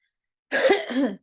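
A single short, rough cough from fire smoke, close and alone in silence.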